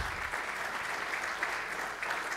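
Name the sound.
audience applause at a conference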